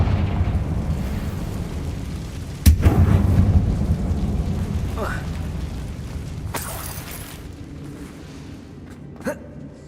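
The Confringo blasting spell in Hogwarts Legacy detonates with a sudden loud boom and a rumbling tail in a mine tunnel. A voice speaks around the blast, and smaller impacts and effects follow later.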